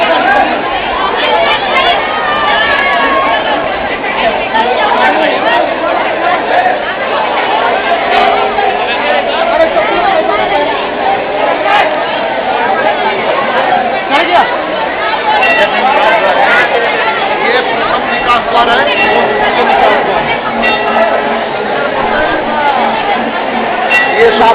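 A large crowd of pilgrims at the Vindhyachal Devi temple fills the air with dense, continuous chatter and babble, many voices near and far overlapping steadily with no pauses.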